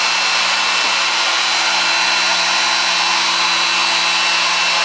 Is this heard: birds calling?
no